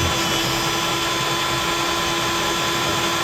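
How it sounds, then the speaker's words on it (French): A power drill with a guide bit bores a pilot hole, giving a continuous, steady high whine with a constant hum and no change in pitch over a few seconds, close and loud with no talk. "on commence juste par faire l'empreinte de la mèche de guidage"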